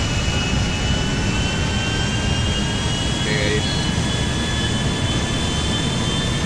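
Steady, loud jet engine roar from an airliner hijacked at Los Santos Airport in GTA 5, a constant broadband drone with faint high whine lines, running unbroken throughout.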